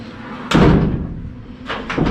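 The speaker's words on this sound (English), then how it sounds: "Door shuts and latches." A 1949 Jeep Willys pickup cab door swings shut with a solid metal thud and clicks into its latch, followed by a couple of quieter knocks, close up in a workshop.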